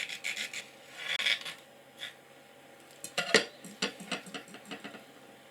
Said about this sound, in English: score it on its edge, taking care not to stress the cable by putting pressure on the free TFT metal enclosure